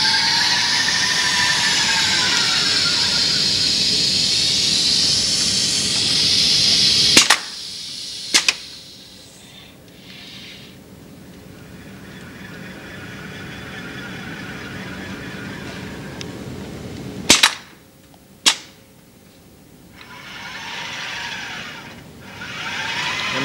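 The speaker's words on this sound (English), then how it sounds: "Pick up the staple gun again and get another slat to the other side." A robot firing a staple gun into wooden crate slats produces two pairs of sharp, loud pneumatic snaps about ten seconds apart, separated by whirring and humming machinery noise, with no voices.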